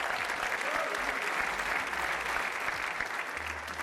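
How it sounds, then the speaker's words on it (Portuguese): Studio audience applause for contestant Pedro Leite on the Portuguese TV game show The Floor: dense, steady clapping that holds at full strength, close and loud, with no talk over it. "Um aplauso para o Pedro!"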